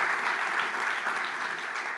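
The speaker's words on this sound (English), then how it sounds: "I want another round of applause for all of our volunteers" A crowd at a fireside-chat event claps for the volunteers, a steady, moderately distant wash of many hands that holds evenly throughout with no voices.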